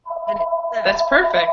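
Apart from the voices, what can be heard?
telephone ringing in the background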